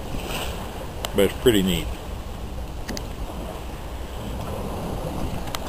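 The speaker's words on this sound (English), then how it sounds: "the motion of a sailboat climbing upwind in some waves and some wind that is muscular and yet liquid" A sailboat climbs upwind through waves on Puget Sound, with steady wind and water rushing against the hull as someone talks briefly.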